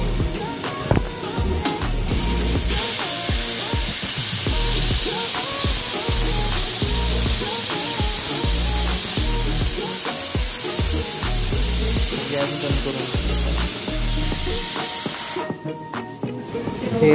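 A pressure cooker whistles with a loud, continuous hiss of escaping steam while pav bhaji vegetables cook, the jet sustained and steady for most of the span before dropping away near the end.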